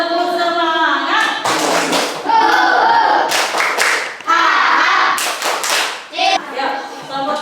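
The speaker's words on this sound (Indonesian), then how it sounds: "Ya, kita tepuk semangat dulu." A group of students in a classroom does a rhythmic spirit-clap chant, sharp claps in patterned bursts mixed with loud chanting and shouted voices.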